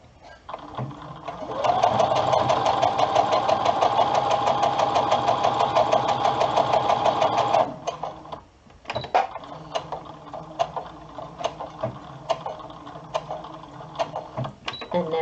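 A sewing machine stitching a hood and thumbhole cuffs onto a garment runs steadily and fast for about six seconds, then stops and restarts in short irregular bursts with handling noise.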